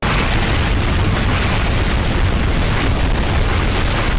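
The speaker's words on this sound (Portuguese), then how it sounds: "as mais de 300 mil pessoas na cidade ouvem um estrondo ensurdecedor." A deep, sustained roaring rumble, loud and dense throughout, the drawn-out boom of an atomic bomb explosion over a city, with no voices present.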